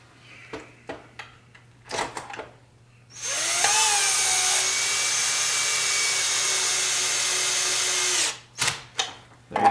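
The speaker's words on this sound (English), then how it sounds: "You can use a screw gun, just make sure you use it on a lower setting." A screw gun on a low clutch setting drives screws into the housing of a SEBO Felix 1 upright vacuum cleaner, giving a close, loud, steady whine for about five seconds with a rising start, framed by brief clicks and handling knocks.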